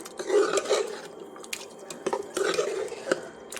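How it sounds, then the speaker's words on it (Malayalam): A utensil scrapes and stirs through thick country-style chicken curry in a pot, with repeated clinks and rasps in an uneven rhythm, close by and moderately loud. "എന്നിട്ട് ഇത് നമുക്ക് നല്ലതുപോലെ ഒന്ന് ഇളക്കി കൊടുക്കാം"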